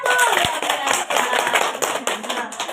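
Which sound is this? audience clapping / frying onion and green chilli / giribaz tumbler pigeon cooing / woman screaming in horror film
audience clapping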